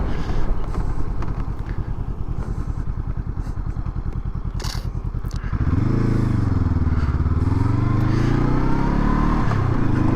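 A Honda Scrambler SCL500 motorcycle rides along, first with a rough, rapidly pulsing engine and wind rush, then shifting to a smoother, louder drone whose pitch rises and falls with throttle, going from concrete onto dirt.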